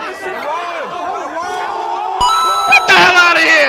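A crowd cheering at a game, with whoops and shouts swelling near the end over close, excited talking.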